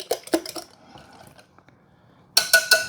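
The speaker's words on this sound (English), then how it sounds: "so now let's give that one more stir." A spoon stirs pecan pie dump cake mixture in a bowl, giving a few sharp scraping clinks at the start, a quiet gap, then another burst of three quick clatters.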